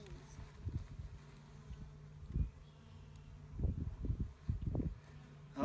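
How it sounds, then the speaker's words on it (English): Honey bees buzz around an opened hive frame during spring cleaning, a low faint drone rising in irregular close swells as they fly near, with occasional soft handling noise. "the next one has tons of bees"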